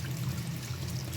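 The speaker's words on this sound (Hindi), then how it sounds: "अब मैं इसके अंदर थोड़ा सा पानी ऐड करती" Water poured into a pot of simmering curry (salan) during home cooking, a steady low pouring and trickling wash that runs without a break for about a second.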